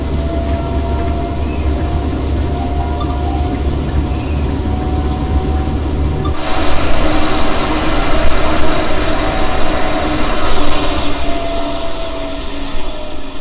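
A DB class 423 S-Bahn electric train runs on the S3 line toward Munich, giving a loud, steady rolling rumble heard from on board. The sound grows brighter and harsher about halfway through, with no talk.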